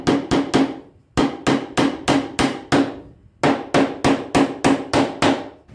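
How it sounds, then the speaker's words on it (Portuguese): Steady hammer blows striking a nail into wood, three quick bursts of rapid knocks separated by short pauses, loud and close. "agora eu vou colocar um prego aqui, um prego naquelas duas pontas"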